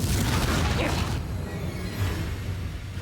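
Spell explosions burst in a fantasy video game as Confringo blasts go off, a loud booming crash with a whooshing rush that cuts off after about a second and leaves a softer rumbling tail.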